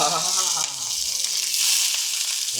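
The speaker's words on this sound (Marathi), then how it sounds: "मस्त लसणाची फोडणी दिली" Garlic tempering crackles in hot oil, a dense steady sizzle close up that runs throughout without pause.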